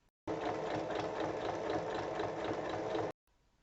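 Home sewing machine stitching across the bottom end of a zipper while assembling a bag, a steady close-up mechanical whir with rapid needle rhythm for about three seconds, starting and stopping abruptly, with no voices.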